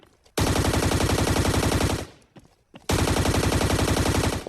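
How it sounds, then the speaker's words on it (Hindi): Rapid automatic gunfire from a Scarfall 2.0 mobile battle game on the Mumbai map: two long, loud, continuous bursts with a short, quieter gap between them and no talking. "मुझे काफी ज्यादा फायरिंग के साउंड आते हैं"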